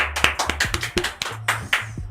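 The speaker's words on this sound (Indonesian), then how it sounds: "Tepuk tangan untuk Jolef." A single person clapping hands close by, about a dozen sharp, slightly uneven claps in quick succession over two seconds.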